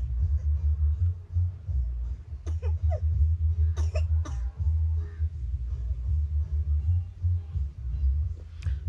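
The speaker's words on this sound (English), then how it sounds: "Should I cough again?" A person coughs in a few sharp, close bursts over a low rumbling background hum, then falls quiet between the coughs.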